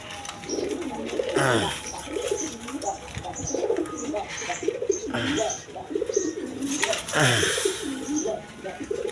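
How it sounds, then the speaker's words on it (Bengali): A pair of high-flying Giribaz pigeons coo in a repeated, rolling rhythm, close and moderately loud, with a voice and faint chirps now and then in the background. "এইখানে এক পেয়ার গিরিবাস কবুতর আছে হাই ফ্লাইং গিরিবাস কবুতর"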